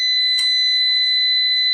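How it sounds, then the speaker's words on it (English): A UPS power backup device for a PC gives a loud, steady electronic beep that holds one pitch through the whole span, with a short burst of clatter near the start and no talking. "okay, beep."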